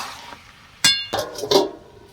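Lid set down over a pan of jackfruit and chicken curry: a sharp metallic clink followed by two softer rattling knocks as it settles, close and alone with no talk.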